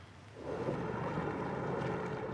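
Water taxis and gondolas out on the water in Venice give a steady wash of water and wind that swells after a quieter opening and carries on without a break.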